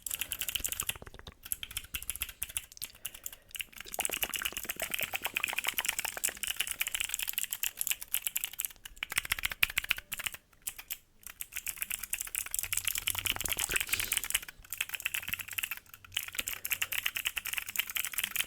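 Steady typing on a computer keyboard, quick clicking keystrokes continuing with a few brief pauses, moderately quiet and close.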